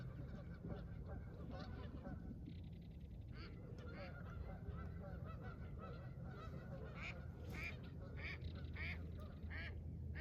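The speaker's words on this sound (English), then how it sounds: "One of the Canadian geese has misbehaved. The other ones have chastised that one. That's what that commotion there was." Canada geese in a noisy honking commotion, several birds calling loudly and repeatedly over a steady outdoor background.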